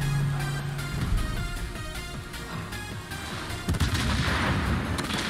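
Heavy naval cannon fire from the Italian cruiser Venezia in a warship combat game, a dense, continuous rumble of booming salvos with a louder burst near the end, no talking.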